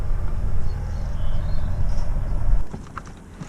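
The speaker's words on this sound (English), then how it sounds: "the gear change now is positive, clicky and light" Gear lever of a Suzuki Ignis Sport shifting through its gate with freshly regreased linkage, a steady low rumble first, then a handful of light, sharp, close clicks in quick succession near the end, with no talking.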